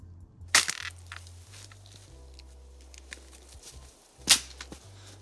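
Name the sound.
rock smashing frozen rocks loose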